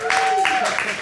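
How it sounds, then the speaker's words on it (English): Stand-up comedy club audience applauding and clapping as a comedian takes the stage for his debut, a steady wash of claps with a host's voice running over it. "Go ahead and give him a round of applause for that."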